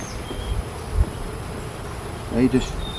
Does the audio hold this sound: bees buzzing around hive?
yes